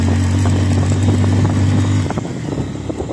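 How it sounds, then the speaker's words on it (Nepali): A motorbike on a long mountain road toward Sandakpur, Ilam, Nepal, holds a loud steady engine drone close by, then the note drops and turns rougher with clattering rattles. "12 घन्टादेखि यो बाइक कुदेको"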